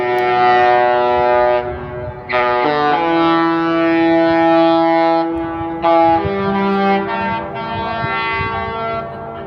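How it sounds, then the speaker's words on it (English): A loud, rich multi-tone Princess Cruises ship horn blasts repeatedly in the Port of Los Angeles, each long chord sliding between pitches and echoing, with brief gaps between blasts. "We got their Princess Cruise Line horn"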